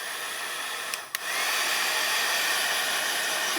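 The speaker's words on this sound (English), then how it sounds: "with my heat gun" A heat gun blows steadily over drying watercolor paint, a loud continuous whooshing hiss with a brief dip near the start, close to the listener.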